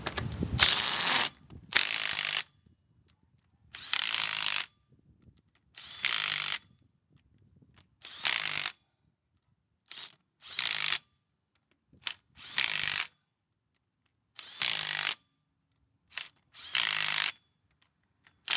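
A ratchet tightens bolts on a GMC rear drum brake, with about a dozen short bursts of rapid clicking, each separated by silence, close and clear.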